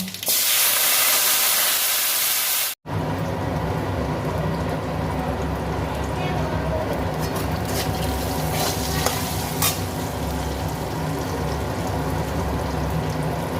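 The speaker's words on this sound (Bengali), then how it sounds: "আমডালের জন্য কটা সর্ষে ফোড়ন দিলাম আমগুলো ভেজে নেব" Mustard seed tempering and mango pieces fry for aam dal, a loud, dense sizzling burst that briefly cuts out and then resumes as a steady, close crackling fry with occasional popping.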